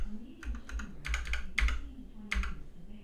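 Keys clacking on an Ultimate Hacking Keyboard as delete is pressed repeatedly, with several close, crisp bursts of keystrokes in uneven clusters over a low background hum.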